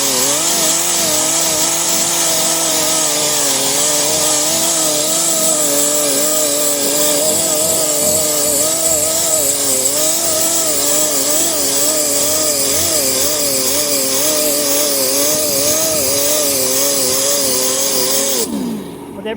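Power sander with a 36 grit Velcro disc grinding a 1969 Camaro quarter panel, a loud continuous abrasive whine with wavering pitch as the tool sweeps back and forth, running almost the whole time before cutting off at the end.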